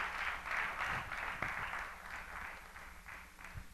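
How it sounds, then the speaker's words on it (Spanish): A church congregation claps together in a steady, moderately distant rhythm of applause, with faint voices underneath, gradually thinning out toward the end. "Dele un aplauso ahí al Señor"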